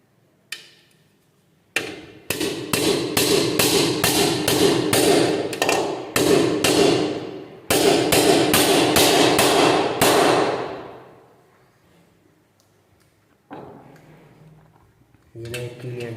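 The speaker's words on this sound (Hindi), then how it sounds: "एक कील आप इस तरफ मार दें।" Nails are hammered in to mount the sheet for a split AC indoor unit, two loud close bursts of rapid, evenly spaced hammer blows separated by a short pause, then quieter handling sounds.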